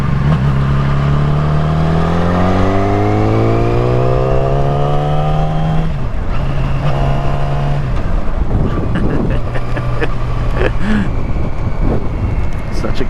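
A Yamaha R6 motorcycle engine revs and changes pitch while riding, rising through the gears with harmonic whine, dipping at shifts, loud and close under steady wind noise, with a voice talking over it.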